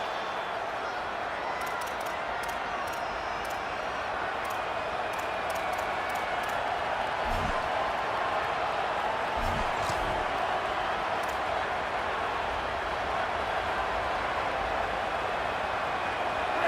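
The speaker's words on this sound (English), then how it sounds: "This crowd ready to make its presence known." A stadium crowd in an American football video game produces a steady, loud wash of roaring noise throughout, with a few thumps and clatters and commentary voices over it.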